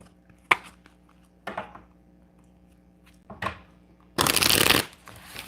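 Tarot cards shuffled by hand: a few soft, brief taps and riffles early on, then a loud, dense riffle-shuffle burst lasting under a second near the end, close to the microphone.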